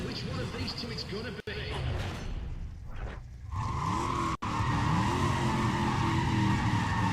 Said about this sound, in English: I want you to be able to hear the cars.